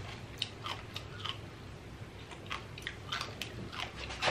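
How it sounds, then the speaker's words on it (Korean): Wet, smacking chewing sounds of eating crab candy repeat close to the mic in an uneven rhythm, with small crunchy clicks between bites. "진짜 일부러 쩝쩝대서 좀 먹어볼게요"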